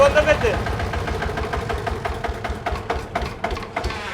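An old Sifang 20 hp diesel engine chugs at an even idle with low, regular thumps while people talk over it.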